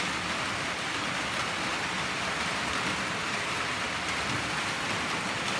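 Steady rain falls on a cloudy day, a continuous even hiss of drops on surfaces around a solar power setup, with no voices.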